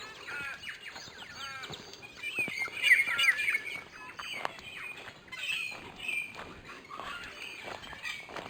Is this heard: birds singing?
yes